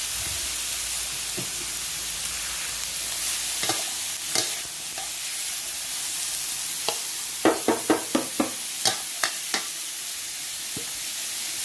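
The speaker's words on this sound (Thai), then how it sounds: "ใส่ถั่วฝักยาวของเราลงไปเลย เสร็จแล้วก็ทำการคนคนคน" Long beans stir-fried in a pan for a simple Thai dish, with a steady low sizzle under a string of sharp spatula scrapes and clacks that bunch into a quick rhythmic burst near the end.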